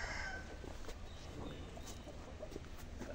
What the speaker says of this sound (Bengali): আর এলো মুরগির ফার্ম